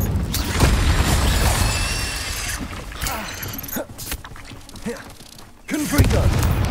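Incendio fire spell cast in the Hogwarts Legacy video game during a fire and ice quest: a loud, whooshing burst of game effects with booming thumps, followed by quieter swells and a fresh surge near the end.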